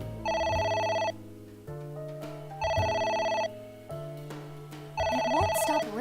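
A phone rings in the AI: The Somnium Files video game, with three loud repeated trill bursts over a steady musical backdrop and no talking.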